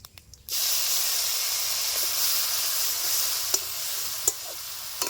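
Ground ginger, garlic, green chili and onion paste hits hot oil with whole cumin seeds, bursting into a loud, steady sizzle that holds close and continuous, broken by a few sharp crackles near the end.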